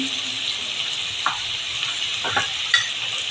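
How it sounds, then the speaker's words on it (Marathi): Onion with turmeric sautés in a pan, a steady hiss with a few soft spoon scrapes, close and moderate in level. "आता कांदा आपल्याला एकदम अगदी लाल पण करायचा नाही आहे असा मध्यम परतून घ्यायचा आहे"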